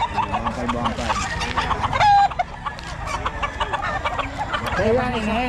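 Hens cluck repeatedly at close range on a farm, a busy run of short calls with other chickens around and people talking over them.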